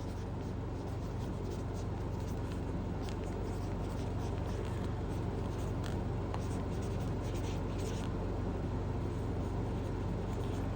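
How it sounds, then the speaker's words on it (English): Sharpie marker writing a product name on a label, a steady scratchy scrawl with short strokes over constant low room hum, close by and fairly quiet. "I do it on a Sharpie so it doesn't like smudge off."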